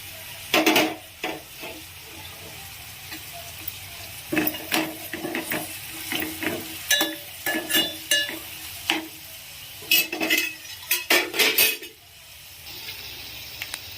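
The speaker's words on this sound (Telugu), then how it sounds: "ఇందులోకి మనం కట్ చేసి పెట్టుకున్న పచ్చిమిర్చి అలానే కరివేపాకును కూడా యాడ్ చేద్దాము." Chopped green chillies and curry leaves fry with onions in a pan for keema curry, giving a soft, steady sizzle broken by repeated scraping and stirring clatters that come in irregular bursts.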